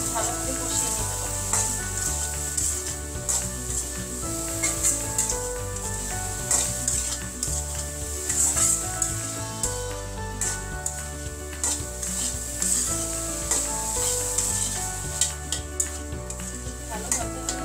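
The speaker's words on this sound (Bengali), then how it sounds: "ভালো করে কষিয়ে নিতে হবে" Masala with soybean chunks sautéed and stirred in a pan for curry, a loud steady sizzle with repeated scraping spoon strokes and clinks against the pan, close up, with faint background music or voices underneath.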